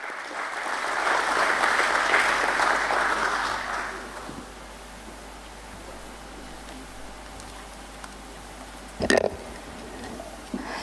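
A convention hall audience at a stock exchange listing ceremony gives a big round of applause. Steady clapping swells for several seconds, then dies away into a quiet room, broken by a single thump.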